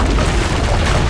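Cannon fire in the video game Assassin's Creed Brotherhood, heard as a loud, dense, rumbling blast that fills the whole moment without a break, with no talk over it.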